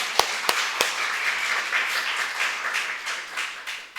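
A church congregation applauds after a choir performance at a Sunday service, opening with a few sharp separate claps and then swelling into steady, dense clapping from many hands that continues to the end.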